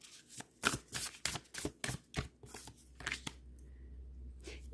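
Oracle cards used for spellcasting readings are shuffled by hand in quick, papery bursts of riffling and flicking, about a dozen close strokes before a steady low hum.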